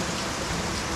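Rain falls steadily over the Murti river, a dense even hiss filling the background without pauses for a brief moment.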